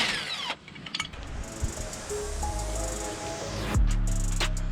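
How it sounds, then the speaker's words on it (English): An impact driver or power tool removes the bolts of a Jeep Gladiator's front bumper, sounding in short bursts that start and stop over several seconds, with a louder spin near the end. "So we're gonna take all 10 of those bolts off and yank the bumper off."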